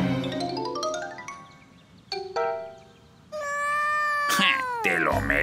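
A cartoon cat meows in a children's animated show, with drawn-out wavering cries over descending chime-like tones and a mild background bed, loud and close.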